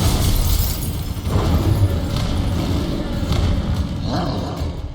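Confringo blasting spell in Hogwarts Legacy, heavy repeated blasts and shattering thuds across a few seconds, loud and dense amid other spell effects.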